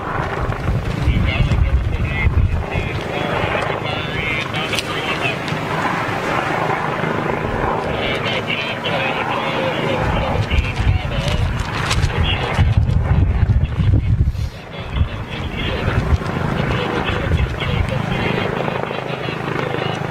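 An NYPD helicopter hovering in orbit over New York, a steady loud rotor thrum with wind buffeting the microphone, under continuous conversation from nearby people.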